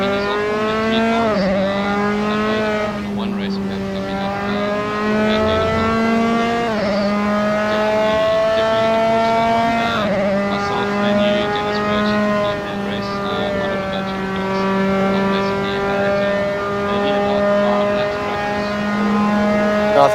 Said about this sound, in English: these are Formula 3 cars